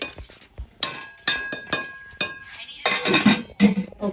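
Metal spoon scrapes and clinks against a pot while karahi gosht curry is stirred, a series of sharp close knocks and scrapes with brief quiet gaps.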